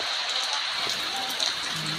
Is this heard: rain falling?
yes